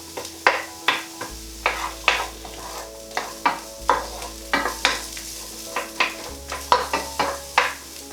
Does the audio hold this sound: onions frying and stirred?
yes